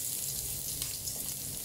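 Onion drops into preheated oil in a home kitchen and sizzles loudly and steadily, a close, continuous frying hiss with faint stirring underneath and no voices.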